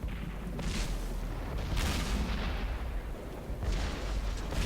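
A tank cannon in World of Tanks fires and strikes an enemy tank, a series of heavy booming shots and impacts that swell and decay, loud and without voices.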